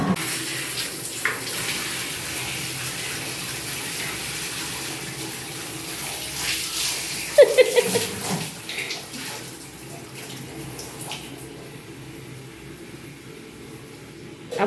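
Water runs steadily from a tap in a new bathroom, a constant close rush. Brief clicks and a splashing change come partway through as the flow is adjusted.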